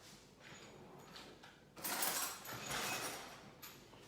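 A kitchen drawer is pulled open to take out a steak knife, giving a close, brief sliding and rattling clatter with a louder burst midway and a faint creak.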